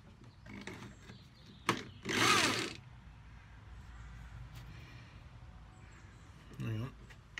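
A drill briefly bores a hole into a workbench in one short, loud burst of whirring, followed by quieter handling noises and a faint second sound near the end.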